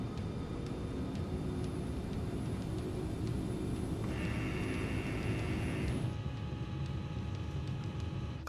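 An airplane accelerates during takeoff, giving a steady broad engine roar with a sustained whine rising partway through, heard from inside at an even, loud level.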